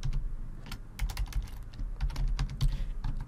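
Typing a name on a computer keyboard: bursts of quick, close key clicks come in uneven runs with short pauses between them, and no one speaks.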